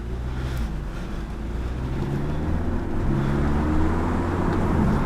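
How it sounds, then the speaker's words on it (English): An Audi S3 saloon's engine hums steadily from inside the cabin as the driver eases onto the throttle, a low continuous drone with a gradual swell in loudness and pitch, mixed with road and wind noise. "I'm putting my foot down a little bit. You can hear the engine"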